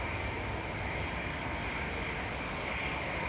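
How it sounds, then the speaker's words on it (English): Virgin Atlantic Airbus A380 on the runway at Manchester Airport, a steady, loud broadband engine roar that holds constant throughout with no voices. "The Virgin A380 is using the vast majority of the runway"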